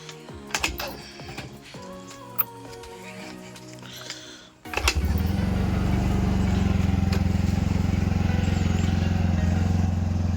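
A TVS NTORQ 125 scooter with a suspected fault gets underway, scattered clicks and light handling noises giving way to a steady loud engine drone and road rush.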